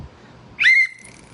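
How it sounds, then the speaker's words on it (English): A small hand-held blow whistle gives one short, loud, shrill blast lasting about a quarter of a second, close by, with quiet room tone before and after. "It's my little blow whistle."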